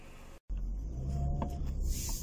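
Steady low-frequency road rumble and engine drone inside a moving Renault Arkana, continuous and fairly loud, with a brief dropout near the start and no voices.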